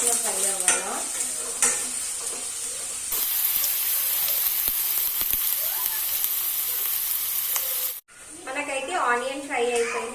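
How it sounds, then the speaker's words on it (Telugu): Onion and green chillies fry in a pan with a continuous close sizzle and hiss while being stirred, as someone talks over the cooking. "ఆనియన్ మనకి మంచిగా ఫ్రై అవ్వాలా"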